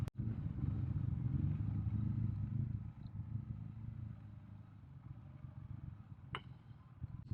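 A Triumph Speedmaster motorcycle engine rumbles close by at night, loud at first, then drops to a lower idle as it rolls slowly up onto a sidewalk, with a sharp clank near the end.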